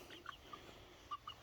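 Chickens in a backyard flock, including lavender birds with one suspected rooster, give a few faint scattered clucks at a distance, soft and sparse with no talking.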